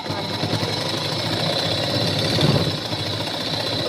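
A sewing machine stitches a blouse neckline, running with a close, steady rapid mechanical chatter and hum that swells slightly midway.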